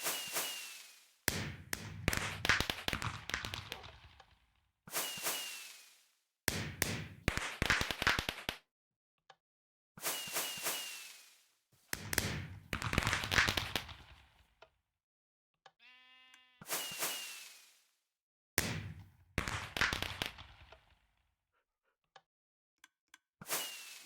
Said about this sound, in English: I brought my dog along and sat and watched the fireworks go off